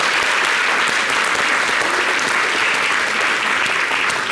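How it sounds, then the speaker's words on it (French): Dense, sustained applause from a crowd, loud and continuous from start to finish with no pauses. "Ben, ça peut s'applaudir."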